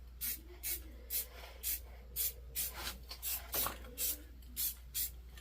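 Short bursts of spray paint hiss onto a motorcycle rim, about ten close, loud sprays in an uneven rhythm over a steady low hum, with no talking.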